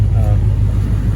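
A Coyote V8 engine swapped into a car idles with a deep, steady low rumble, loud and close, holding an even note throughout.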